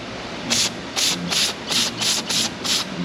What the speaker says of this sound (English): I'm gonna run some cleaner through it, just some brake clean.